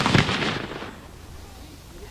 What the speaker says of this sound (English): we've been hearing the din of battle throughout the day as various reenactors fire off those cannons.